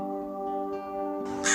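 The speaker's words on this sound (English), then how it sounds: "a crow comes flying in and lands on her shoulder" A crow gives a single drawn-out caw, harsh and harmonic, sounding fairly close, with a sharper, brighter burst at the very end and no talk.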